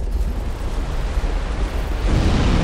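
Roaring fire attack during the Old Iron King boss fight in Dark Souls 2, a loud, continuous rumbling blast that swells louder near the end.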